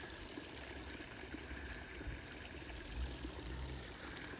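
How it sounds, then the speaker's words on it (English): A very small waterfall trickles steadily, a close, continuous splashing and dribbling of water with no voices over it. "smallest waterfall in the world"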